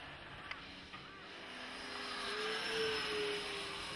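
Model jet aircraft making a low gear-down pass at a hobby flying event, a steady whine and rush of wind that swells as it approaches, peaking near the middle before easing, heard from a distance outdoors.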